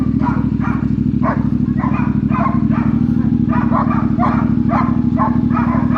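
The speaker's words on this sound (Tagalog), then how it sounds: "Ingay ng mga aso ko" Dogs bark repeatedly in quick, overlapping bursts, loud and close, over a steady low motorcycle engine hum.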